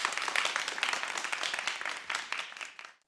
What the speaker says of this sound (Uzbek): Ishtirokingiz uchun rahmat, olqishlab qo'yamiz.